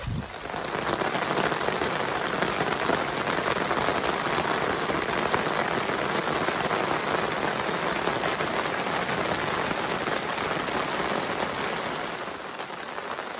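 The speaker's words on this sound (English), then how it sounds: "And now it's raining just real lightly" Light rain falls steadily at a lakeside campsite on a canoe trip in the Boundary Waters, a dense even patter on nearby surfaces that runs unbroken throughout with no talking.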